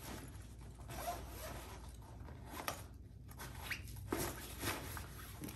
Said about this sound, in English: You zip that right on up.